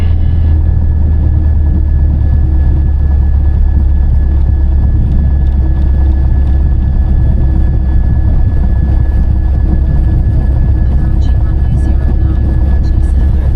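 Piper Archer light aircraft taxiing, its engine a loud, steady droning rumble heard from inside the cockpit throughout, with no talking.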